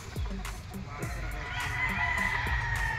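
Gamefowl roosters, a yellow-legged 3-way cross, crow at a game farm among several clucking birds, with short calls and crows overlapping nearby and a rising chorus toward the end.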